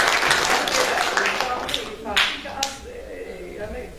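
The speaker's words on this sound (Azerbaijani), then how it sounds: "Bir daha əllərini alqışlayaq." Audience at a talent academy master class event in Gədəbəy claps and cheers, dense broadband applause filling the room, strongest early then tapering, with a few sharp individual claps near the end.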